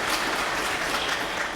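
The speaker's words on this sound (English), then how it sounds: "I suggest a round of applause for Karine." An audience at a carbon-neutrality climate symposium breaks into a brief, dense burst of applause for the conference moderator, filling the room evenly without any speech.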